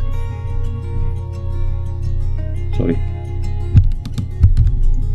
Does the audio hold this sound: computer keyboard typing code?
yes